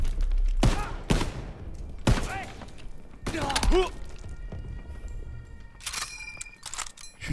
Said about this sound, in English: Shooting. I like that noise.